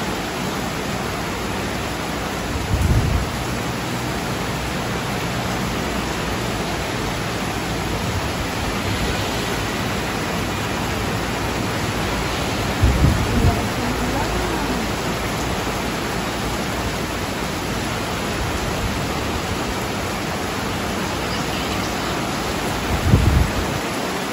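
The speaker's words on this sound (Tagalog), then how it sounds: "Maulan." Steady rain, a dense unbroken hiss that stays even throughout, with a few faint low thumps breaking in now and then.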